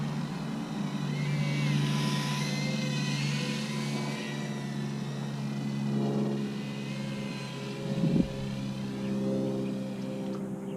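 An Eachine FatBee FB90 micro drone flies close by, its tiny motors giving a continuous high-pitched whine that rises and falls with throttle, with a brief bump partway through.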